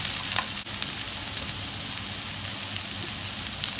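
Beans frying in a pan, giving a steady close sizzle with faint stirring scrapes and one brief dip, no speech.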